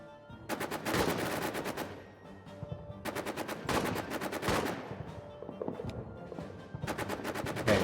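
Rapid gunfire in the All Quiet in the Trenches video game, several dense bursts of machine-gun and rifle fire separated by brief lulls, loud and close with a rolling fusillade throughout.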